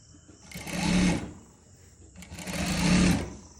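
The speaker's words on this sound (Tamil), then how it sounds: "நான் அப்படியே பிடிச்சி தைக்கிறேன்" A sewing machine stitches a saree blouse in two steady whirring runs, each about a second and a half long, with a short pause between them. The machine is close and clearly heard, with no talking.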